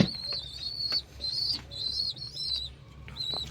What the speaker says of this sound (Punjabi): ਲੋ ਬਈ ਮਿੱਤਰੋ ਕਬੂਤਰ ਆ ਕੇ ਬੈਠ ਗਏ ਆਪਣੇ ਛਤਰੀਆਂ ਤੇ